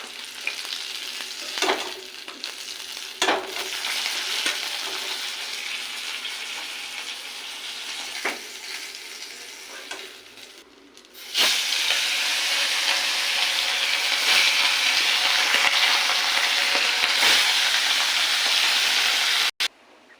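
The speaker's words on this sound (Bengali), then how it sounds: "মাছটা ভাজা হয়ে গেছে, এবার তুলে নেবো।" Khoira fish fry in hot oil, a steady, close sizzling hiss that gets louder and denser partway through, with a few brief knocks and no talking.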